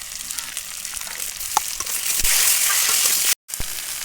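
Potatoes and onions fry in a pan for a gourd-and-shrimp curry, with ground spice paste going in; a loud, steady sizzle with crackling pops runs throughout and cuts out briefly near the end.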